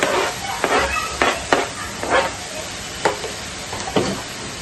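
Chopped tomato sizzles with ginger garlic paste in a hot pan as a spoon stirs it. The frying hiss is steady and close, broken by repeated scraping stirs.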